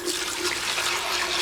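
Homemade ginger drink poured back through a sieve, a continuous splashing, trickling stream of liquid heard up close and fairly loud without pause.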